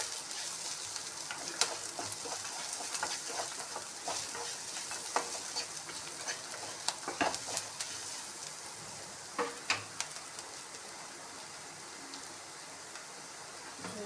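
Poha upma with turmeric and salt is stirred in a pan, making a steady, soft, hissing scrape for about fourteen seconds, broken by a few light clacks of the spoon, with no talking.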